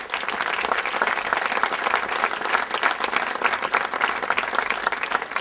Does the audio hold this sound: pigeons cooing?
no